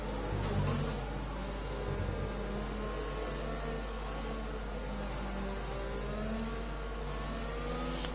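Simulated Formula 1 car engine in the F1 2020 racing game at the Russian Grand Prix, droning and revving steadily through a formation lap at moderate pace, continuous and fairly quiet with no talk.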